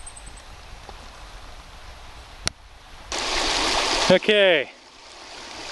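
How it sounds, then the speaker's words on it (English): Savage River on the Stampede Trail running high and brownish, a steady rush of water in the background with a louder burst of noise midway and a brief spoken word near the end. "Savage River looks a little bit higher than the last time I was here, but nothing too terrible"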